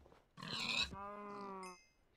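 Farm animals, cows and pigs, call in a video game: a rough grunting burst, then a sustained tonal lowing call, fairly close.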